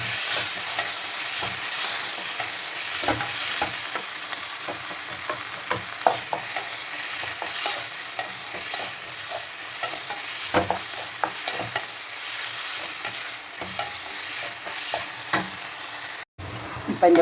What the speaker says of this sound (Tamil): தக்காளி போட்டு வதக்கிக்கணும்.